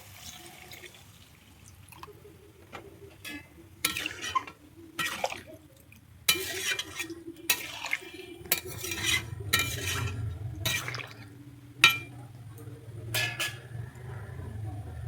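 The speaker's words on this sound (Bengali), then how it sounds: "এর মধ্যে আমি দিয়ে দিচ্ছি এবারে জল" Water goes into a pan of Bengali taro (sola kochu) curry, with splashy liquid sounds mixed with repeated metallic clinks and scrapes of a spoon against the pan, close up and irregular.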